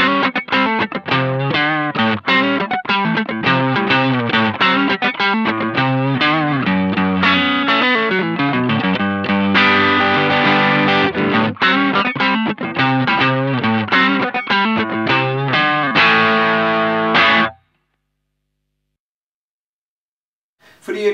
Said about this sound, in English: in this video we'll take a look at the East River Drive by Electro-Harmonix